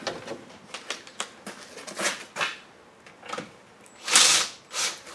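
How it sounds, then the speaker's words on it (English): Ball joint nut on a Mazda 5 lower control arm being tightened with a ratchet. Quick, close clicking and whirring bursts come in irregular runs, with a louder spurt near the end. "Take your ball joint bolt, reinstall, and then put the nut back on. And then tighten that down."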